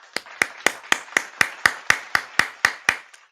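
A single person claps about a dozen times in a steady, even rhythm, each clap sharp and close, with no other voices or background noise.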